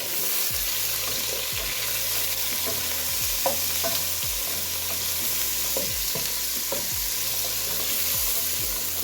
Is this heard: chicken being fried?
yes